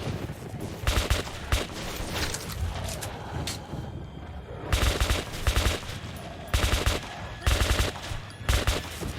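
Bursts of automatic gunfire with recoil in the Metro video game, several rapid loud volleys separated by short pauses, with faint talk underneath.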